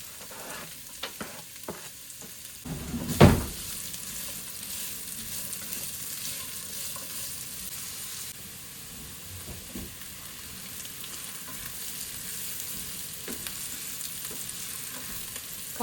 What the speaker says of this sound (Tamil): ஸோ இப்போ ஓரளவுக்கு நல்லா ஃப்ரை ஆயிடுச்சு.